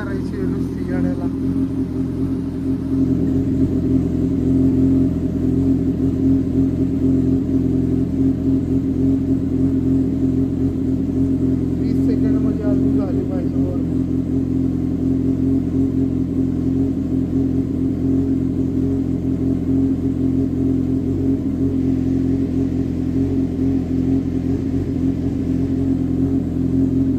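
A Kawasaki Z800 superbike with a leaking radiator coolant runs its engine in a workshop. A steady, close, low rumble holds throughout, with slight rises in revs and faint voices in the background.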